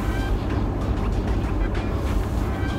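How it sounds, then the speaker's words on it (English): Steady road noise inside an old work truck while driving, a constant loud low rumble and broadband roar with vibration that never lets up. "forgive me with the road noise, forgive the vibration"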